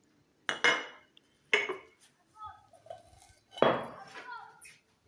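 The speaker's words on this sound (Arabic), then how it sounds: "ثم الفخار هرجعه بعد ما نظفته ومسحته" Clay pottery pieces set back in place after cleaning in a kitchen, making a few close, hard clunks and clinks at uneven intervals with quiet shuffling between them.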